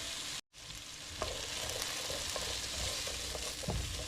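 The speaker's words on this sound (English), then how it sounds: "we're gonna cook them slowly and let them brown up a little bit" Homemade pierogi and sausage fry slowly in a pan, giving a steady broadband sizzle with light popping and spatter that runs throughout, broken by one brief silent gap near the start; no one speaks.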